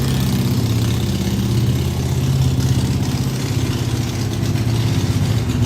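A steady, low engine rumble idles continuously and loud throughout, with a slight rise in revving midway; no voices.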